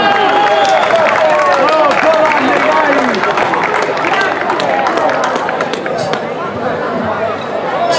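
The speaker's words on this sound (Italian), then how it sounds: "Facciamo un applauso al signor Giovanni" An outdoor audience at the SS. Salvatore festival concert in Passiano claps and cheers for Mr. Giovanni, dense sustained applause close by with excited voices and chatter mixed in.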